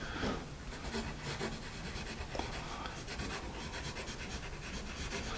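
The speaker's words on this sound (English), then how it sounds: "A little scratchy, perhaps you can hear that." A Paper Mate Exam Standard HB pencil scratches across paper in quick, slightly scratchy strokes, faint and close with a dry rasping texture and no speech.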